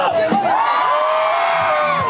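A large baseball crowd at an NC Dinos game in Daejeon roars on a cheerleader's cue, with a brief call at the start giving way to a loud, sustained massed shout that holds for about two seconds.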